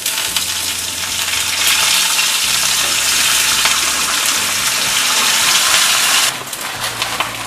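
Mustard seeds, cumin, urad dal and curry leaves frying in hot oil for an eggplant and tomato pachadi, a loud steady close sizzle and crackle that drops slightly near the end.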